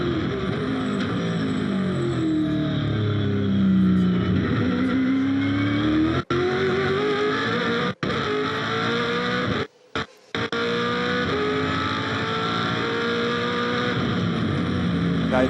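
On-board a 2008 V8 Supercar racing a lap at the Clipsal 500 in Adelaide, the V8 engine screams loudly and continuously, rising and falling through sequential gear changes with sharp brief cuts on upshifts and downshifts.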